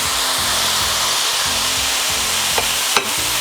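Diced onions fry in a pan for a Big Mac tater tot casserole, giving a steady, loud sizzle with a low rhythmic hum underneath and a couple of sharp clicks near the end.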